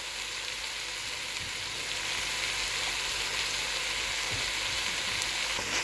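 Cabbage and capsicum sizzle in hot oil in a pan for egg fried rice, a steady close crackling hiss that runs unbroken throughout with no voices.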